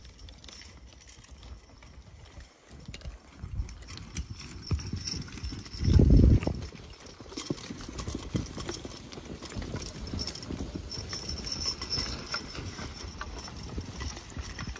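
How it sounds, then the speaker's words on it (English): Horses hauling hardwood logs through a snowy Vermont winter forest, their hooves clip-clopping steadily at moderate distance, with one louder thump or clank near the middle and soft jangling of harness. "With horses, we're able to snake the logs between the trees with a level of precision that would be impossible"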